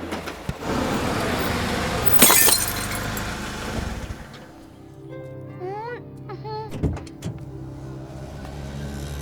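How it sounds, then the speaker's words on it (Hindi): A car headlight's glass is smashed in a sharp, loud crash that bursts out briefly over busy background noise, with a few quieter knocks and voices following. "तुमने मेरी गाड़ी की लाइट तोड़ दी।"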